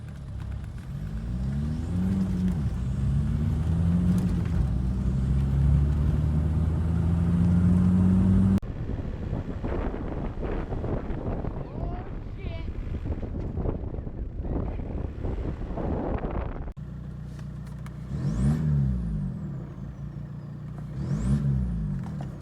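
A Ford Econoline van's engine revs and accelerates under heavy wind buffeting on the microphone, a steady loud drone with rising pitch sweeps, then road and engine noise from inside the moving vehicle.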